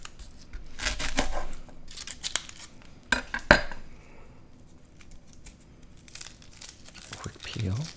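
Dry papery skin peeled and torn from a garlic clove while cooking a vegan roasted red pepper pasta sauce, with close crinkling and tearing in several short bursts amid light kitchen clatter.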